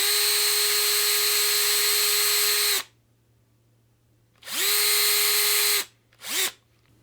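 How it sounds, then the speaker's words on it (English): An electric drill boring a tiny shallow hole into a guitar fretboard on a Telecaster build: a steady high motor whine for nearly three seconds, a pause, then two more spin-ups, the last one brief, with no talking. "I hold the neck as straight as I can and the drill as straight as I can, and I just go down about 1 mil into the fretboard"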